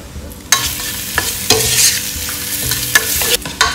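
Sliced mushrooms with onion, garlic and chopped spring onion sautéing in a hot pan, a loud continuous sizzle broken by scraping stirs and clacks of a spoon against the pan.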